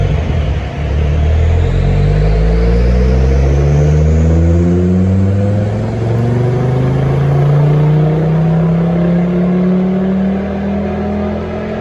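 A turbocharged Ford ST engine revs hard on a dyno, its loud droning note climbing steadily in pitch through a long sustained pull, close and continuous.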